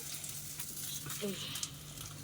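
Fish frying in oil in a pan, a low steady sizzle with faint stirring and scraping as the last piece is lifted out.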